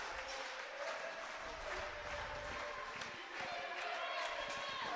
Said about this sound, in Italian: Intanto si sentono di sottofondo i cori dei tifosi che stanno ancora arrivando qua al Paladante del Trissino